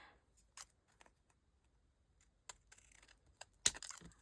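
Scissors snip through paper for a handmade journal, a few sparse isolated cuts followed by a quick run of small snips and a louder final crunch, close and quiet.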